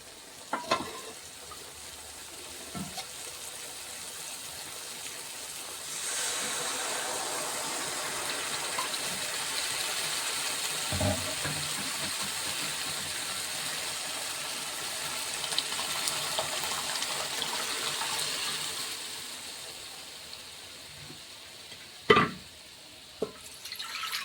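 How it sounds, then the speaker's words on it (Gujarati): Water is poured into boiled dal that sits over a chilli tempering in a hot pan, making a long, steady gushing sizzle in the middle of the clip, framed by quiet frying and a few clinks of a utensil, with no talk. "થોડુંક પાણી પણ નાખશું, કેમ કે દાળ ચીકણી હોય ને ચડી જાય મસ્ત મસ્ત."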